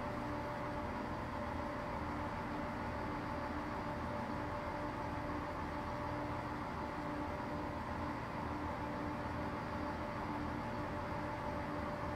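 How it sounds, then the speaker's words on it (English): A train rumbling steadily past in Train Simulator Classic on the Edinburgh to Glasgow line, a continuous broad rolling drone with a faint tonal hum that holds an even level throughout, with no voices over it. "I hear a train."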